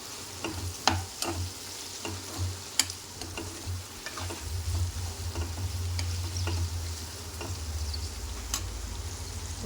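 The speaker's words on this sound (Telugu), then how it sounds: "ఒక స్పూను పసుపు కూడా అంతా కలిసేలాగా ఒకసారి కలిపేసుకుందాం" Okra fries in a pan as turmeric is stirred in, with sharp metallic clicks and scrapes of the spoon over a close, continuous sizzle that swells into a louder crackle partway through.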